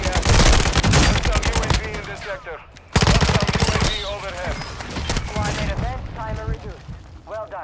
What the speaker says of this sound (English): They're still there shooting though.